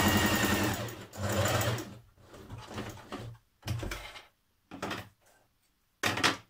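A sewing machine stitching a gathering row on a New Look 6574 dress, running in several bursts of steady mechanical whirring separated by short pauses, close and clear with no speech.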